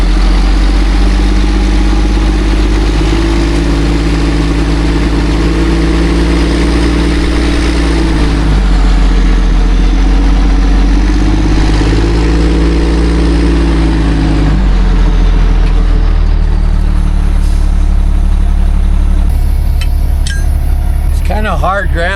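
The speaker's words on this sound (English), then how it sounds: "I'm just going to use the power of the truck because he's unstuck now." A truck engine idles and pulls forward gently over hard off-road ground during a rescue of a stuck vehicle, a steady low drone with slight rises in revs, close and continuous throughout.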